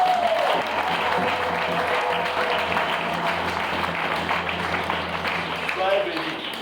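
A church congregation applauds, with dense sustained clapping filling the space while a voice speaks over it now and then.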